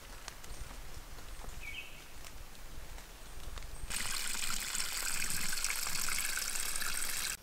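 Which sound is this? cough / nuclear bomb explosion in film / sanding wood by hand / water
water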